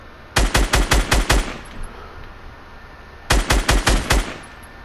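Two bursts of rapid automatic SMG fire in Fortnite Battle Royale, about six sharp loud shots, then a pause and a second burst of five or six, close and with nothing else over them.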